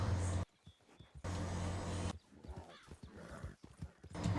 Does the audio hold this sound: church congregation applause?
no